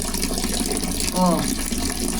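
A bathroom tap runs as Prime Water supply returns after eight days without water, making a steady, low hiss throughout with a brief voice over it midway.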